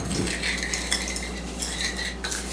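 Seasoned breadcrumbs and melted butter stirred together in a bowl, with a utensil scraping and clinking against the dish in quick, close, continuous strokes.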